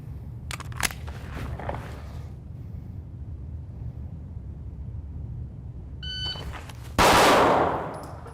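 Pistol shots from a handgun fitted with a Vortex Defender CCW red dot during a live-fire drill: a couple of sharp cracks early, a pause, then a loud close blast with a ringing, decaying tail.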